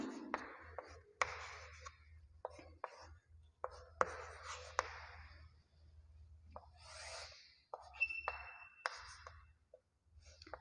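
A teacher sketches a geometry figure in a maths class on lines and angles, with scratchy pen or marker strokes in short irregular bursts, close and quiet over a low background hum.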